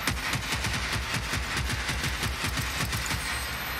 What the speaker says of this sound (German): Also, die Schüsse sind unglaublich schnell.